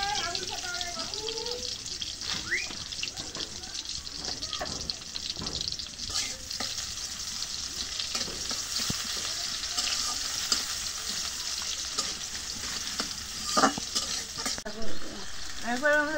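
Oil crackles in a cooking pan with a sustained, moderate sizzle lasting throughout, while a voice talks intermittently and occasional clinks and splashes of water sound nearby.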